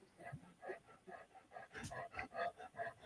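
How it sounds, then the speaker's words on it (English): A big dog gives a run of low, rhythmic vocalizations, panting or whining, close by, mixed with people talking indoors. "sounds like a big dog"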